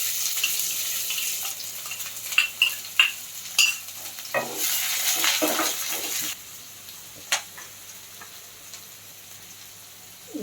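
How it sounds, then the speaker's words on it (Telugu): Chopped onion fries in hot tempered oil with dried red chillies for a okra stew, a close sizzle broken by several sharp scraping stirs of a spoon against the pan. "పోపు వేగిందండి. ఒక ఉల్లిపాయ వేస్తున్నాను."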